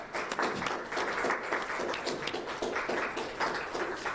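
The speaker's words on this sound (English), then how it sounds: "Yeah, clap them up." Audience applause at a summit as people are called to the front, a continuous roomful of clapping with slightly pulsing intensity, moderately loud and uninterrupted by talk.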